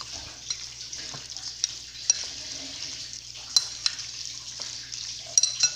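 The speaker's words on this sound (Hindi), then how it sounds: "अब मैं इसको अच्छी तरह मिक्स करूँगी" Batter for mini pizza being mixed by hand: soft scraping strokes with a few sharp utensil clicks against the container over a low steady hum, close and fairly quiet.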